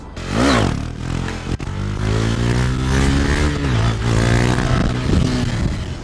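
A motorcycle engine revs hard in the mid-range during wheelie practice, pitch climbing and holding in a loud sustained drone with a brief scrape and clatter early on, close by and without talk.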